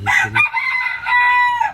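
One loud rooster crow close by, rising and holding before trailing off.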